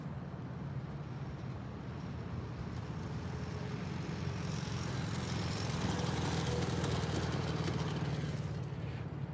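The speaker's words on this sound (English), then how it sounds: "here comes a motorcycle" A motorcycle passing along a city street, a low engine drone rising gradually to a peak before fading, with steady background traffic hum.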